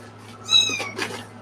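A house cat meows twice in quick succession, close and clear against a quiet room with a low steady hum.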